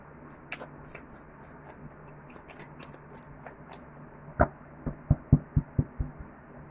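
Tarot cards being shuffled by hand, with quiet riffling flutters early on and then a run of sharp taps and knocks as the deck is squared and handled close by, with no talking.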